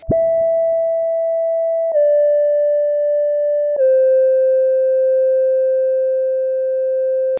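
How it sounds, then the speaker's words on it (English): A pure, clean synth lead from the Purity plugin plays dry without effects, three long sustained tones that step down slightly in pitch one after another, smooth and steady with no other sounds. "this lead sound is from Purity without any effects"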